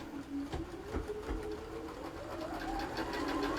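A sewing machine stitches a quarter-inch seam through fabric pieces placed right sides together, its motor whirring steadily with a rapid rhythmic needle chatter that rises slightly in pitch, close and continuous.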